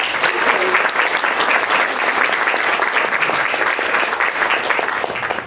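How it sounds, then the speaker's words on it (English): A crowd applauds steadily, dense clapping filling the whole stretch at an even, loud level before tapering off at the very end. "if we could please have a round of applause"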